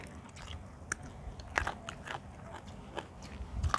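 Crunchy bite of rice mixed with boiled egg, several sharp crisp crunches between quieter chewing, close to the mic, with no talking.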